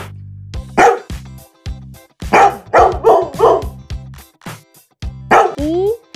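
Dog barking in short bursts, single barks then a quick run of several, with a whine near the end, close and clear over a rhythmic children's alphabet song accompaniment.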